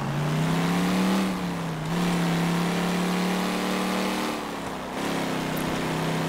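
A car engine hums and revs in the game L.A. Noire as the car speeds up. The engine drone rises and falls through two shifts in pitch, steady and close, with no talking.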